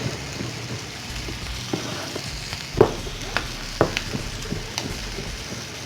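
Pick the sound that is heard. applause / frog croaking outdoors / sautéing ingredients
sautéing ingredients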